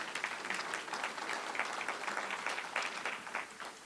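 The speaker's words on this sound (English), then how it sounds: "if you give her a round of applause" A room full of people at a community meeting for a new regional medical center breaks into steady applause, dense overlapping claps sustained evenly from start to finish, with no voices standing out.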